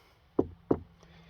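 Two sharp knocks on a 1993 Ford Explorer body panel, hollow and close, followed by a faint third tap in a quiet space.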